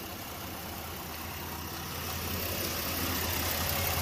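A 2009 Chevrolet Impala LT engine runs steadily with a low, even hum that swells slightly louder partway through, heard close up with no talking.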